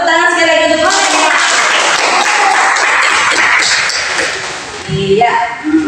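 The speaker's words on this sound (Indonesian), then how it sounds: "Tepuk tangan sekali lagi untuk semuanya." A classroom full of people claps loudly for several seconds, the applause fading out as a voice speaks before and after it.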